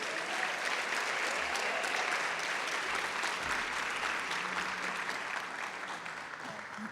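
Church congregation applauding together, a steady, dense wash of clapping from many hands that carries on evenly before tapering slightly at the end.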